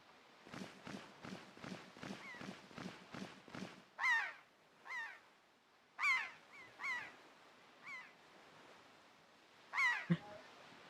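Bird calls from The Legend of Zelda: The Wind Waker video game: a quick run of eight short, even calls, then several louder, spaced-out squawks and cries, with no speech.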